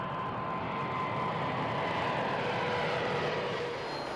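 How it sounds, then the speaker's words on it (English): Boeing airliner in flight during a test flight, its engines producing a loud, continuous, steady roar throughout with no voices. "She must undergo a series of grueling test flights before delivery."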